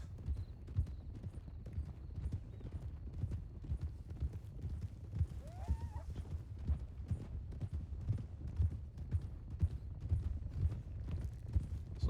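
Horse hooves clip-clop at a canter in a roleplay video game, a steady quick rhythm of soft thuds with a brief whinny midway, all fairly faint.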